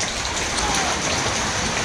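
Steady, even rain falls throughout during a hike on Mount Tagapo on Talim Island, with no voices.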